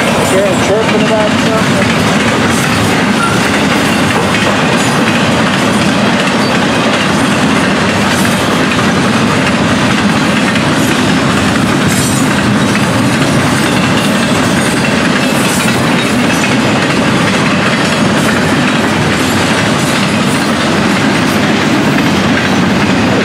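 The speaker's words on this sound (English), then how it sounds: "The more neighbors up here watching the train. And it's a train worth watching." An FEC train rumbles past on the rails in central Florida, a steady loud roar with clickety-clack of wheels throughout, continuous and close, with faint voices underneath.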